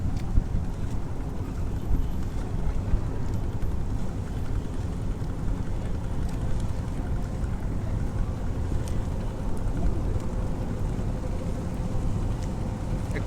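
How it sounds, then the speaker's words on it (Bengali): A trawler boat moving along a river near Barisal's launch terminal, heard as a continuous low engine drone blended with heavy wind rumble, steady and close throughout with no talk. "একটা ট্রলার আইতাছে"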